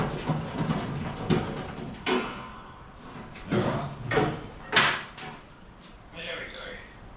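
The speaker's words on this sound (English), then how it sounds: "I'm just going to rip that bonnet hinge off" Metal clunks and scraping knocks from a bonnet hinge being wrenched off a Holden HQ in a shed, several irregular loud bursts close by with brief pauses between.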